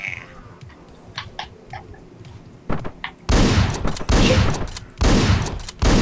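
Gunfire in the top-down video game Hotline Miami: a few sparse shots early on, then loud, dense bursts of rapid shooting that cut off abruptly, with brief gaps between them.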